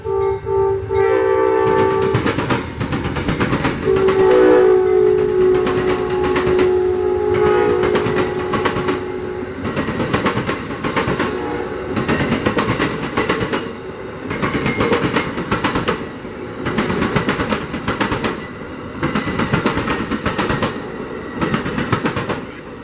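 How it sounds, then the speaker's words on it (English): Amtrak 92 passenger train approaching Tampa near Plant City, Florida, sounds its horn loudly at the start, then rolls past with a steady, rhythmic clatter of wheels over rail joints. "we slide over to Plant City where we catch 92 coming into Tampa."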